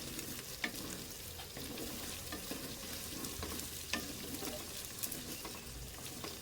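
Garlic ginger paste fries quietly in a pan, giving a soft, steady sizzle. Occasional spoon scrapes and small crackles come through close by, with no voices.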